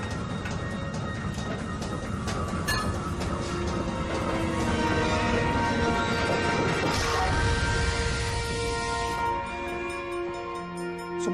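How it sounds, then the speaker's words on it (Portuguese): A cable-hauled funicular train carrying a load of flour toward São Paulo rumbles steadily and loudly, with dense mechanical clatter and rolling noise throughout and a brief metallic clank partway through. "um trem puxado por cabos"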